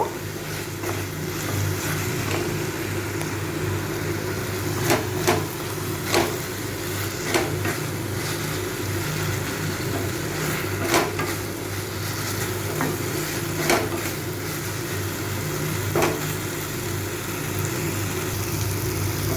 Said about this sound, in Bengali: আমি এটা আর একটু ভেজে নেব